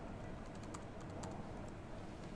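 Quiet, rapid clicking of HP 2133 Mini-Note laptop keys, a soft irregular tapping rhythm heard up close with no voices.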